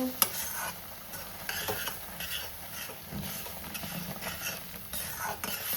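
Syrup poured into protein halwa sizzles in the pan while a utensil stirs and scrapes steadily, producing close, continuous hissing with intermittent scraping knocks and no talking.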